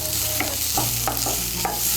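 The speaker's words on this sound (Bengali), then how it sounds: "কাজু বাদাম, কিশমিশ আর চালটাকে একটু ভালো করে ভেজে নেব।" Cashews, raisins and rice frying in ghee in a pan, a continuous sizzle punctuated by several sharp scrapes and knocks of a spoon as it is stirred, close and fairly loud.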